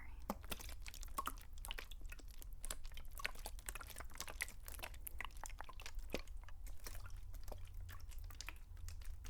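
Close, irregular clicks and drips of water over a low steady hum, soft and intimate with no voices.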